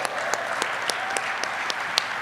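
A crowd at an Army change of responsibility ceremony claps after a National Anthem rendition, a sparse scattering of claps with a few sharp, distinct hits over a brief stretch.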